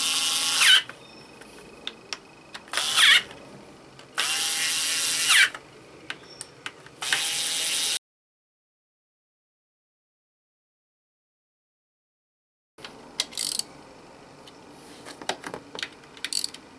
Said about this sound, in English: Now I'm just going to use my electric tool to get them snug.